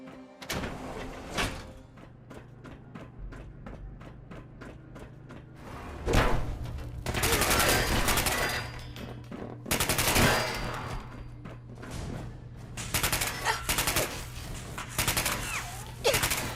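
Automatic gunfire rattles in the video game Fallout 4, with rapid shots in dense bursts broken by short pauses, loud and close.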